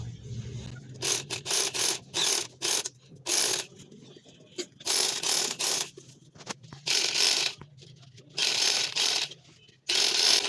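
A sewing machine stitches the side seam of an angrakha garment in short, loud bursts of rapid mechanical clatter, separated by quiet pauses, about a dozen runs in all.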